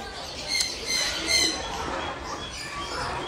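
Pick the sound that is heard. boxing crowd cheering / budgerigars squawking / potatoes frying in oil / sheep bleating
budgerigars squawking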